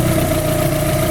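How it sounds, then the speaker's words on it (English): A warmed-up engine with the load taken off idles steadily and loudly while its ignition timing is advanced, a continuous even drone with a slight rise in speed and no talk. "rotating even further advances it, so you can hear it, the engine speed picked up a little bit"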